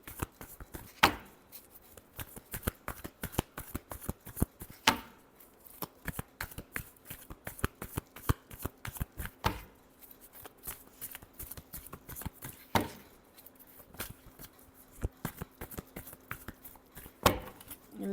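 Tarot cards are shuffled by hand in rapid riffles and taps, sharp crisp clicks in irregular bursts with a few louder snaps, close and fairly quiet, with no talking.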